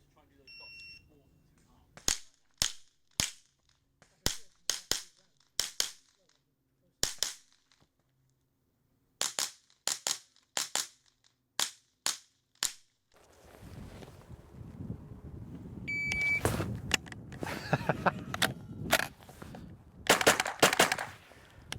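Minirifle shots fired from a timed start position, a start-timer beep then rapid strings of sharp cracks in bursts, followed by another beep, more shots and movement noise with a voice speaking.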